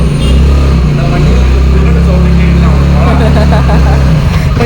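A loud motor engine with a deep, steady low rumble like a Royal Enfield Bullet motorcycle, running close and continuous throughout while a person talks over it at night near dogs.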